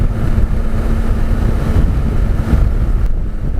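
A Yamaha Tracer 9 GT triple-cylinder motorcycle rides through hills, its steady engine drone heavily buried under constant roaring wind buffeting the microphone, with no voices.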